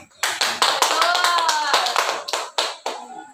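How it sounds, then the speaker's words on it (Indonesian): Classroom applause during a teaching practice session, a short burst of hand clapping from a small group lasting a few seconds, with a voice speaking over it. "Tolong berikan tepuk tangannya."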